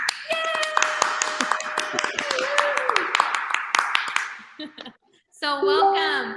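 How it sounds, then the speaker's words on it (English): Canned applause sound effect triggered from a button during a live talk show: busy clapping layered with tonal, cheering-like tones, a brief drop to near silence, then a short loud burst of the tonal layer. "Applause button."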